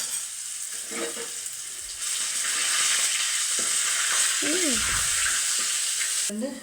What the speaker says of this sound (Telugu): అల్లం తెల్లగడ్డ పేస్ట్ బాగా వేగిపోయింది